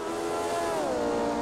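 A single-seater race car in a racing video game accelerates out of a corner, its engine note rising and bending in pitch in a continuous smooth whine.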